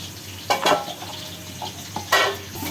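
A spoon stirs and scrapes a spiced potato mixture with coriander powder and turmeric in a pan, giving a few distinct clattering scrapes with quiet pauses between them.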